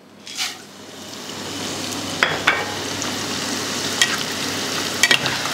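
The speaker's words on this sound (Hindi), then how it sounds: "अब इसके अंदर मैं डालूँगा गोंद।" Edible gum (gond) hits hot oil in a pan and fries with a steady, close sizzle that swells after a soft first burst. Small crackles and pops break through now and then.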